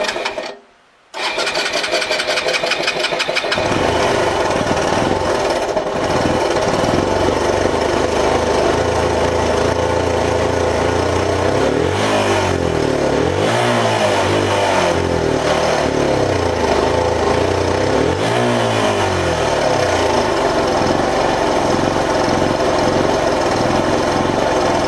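A Suzuki DR 125 motorcycle engine that won't hold idle, running loud and close with a steady rough drone, then surging into several wavering revs midway and dipping back down unevenly. No one speaks.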